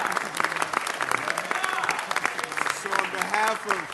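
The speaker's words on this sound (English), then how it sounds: "Let's give him another round of applause." A crowd claps steadily at a Los Angeles City Council meeting, with voices and chatter mixed into the continuous applause.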